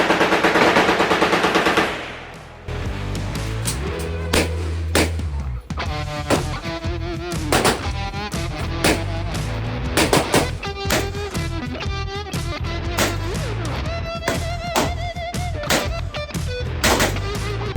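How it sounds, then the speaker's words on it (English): Guns fire at a shooting range in Vietnam: a long burst of automatic fire opens, then loud single shots and short volleys follow in an irregular rhythm, close and sharp. "So, looks like we're going to be doing a shooting range."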